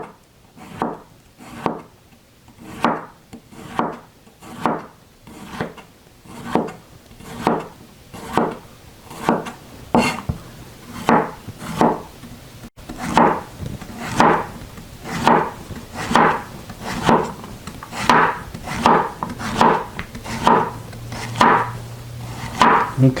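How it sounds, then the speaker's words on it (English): A knife chops steadily through a soft cucumber on a cutting board, giving a long, even series of crisp taps close by, speeding up and growing slightly louder toward the end, with no talk over it. "a cucumber is a great veggie to practice your knife skills on because it's really soft and it's easy to cut through"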